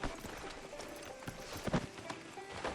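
Horse hooves clip-clopping along a town street in Red Dead Redemption II, a quick irregular run of hoof strikes at moderate distance with no talk.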